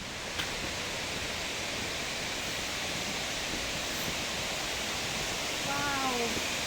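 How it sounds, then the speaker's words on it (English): Steady rushing water from a rainforest waterfall and creek fills the whole stretch as a dense, even roar, with a brief voice speaking near the end. "From here we should be able to look out over a bit of a waterfall and see like the creek,"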